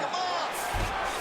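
Arena crowd in the video game EA Sports UFC 5 roars and cheers as fighters scramble back to their feet after a grappling exchange, a broad swelling wash of noise that lifts near the end.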